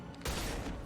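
Gunfire in the video game Mass Effect Legendary Edition: after a brief quieter moment, a sudden loud blast of heavy fire erupts and holds as a dense, continuous barrage.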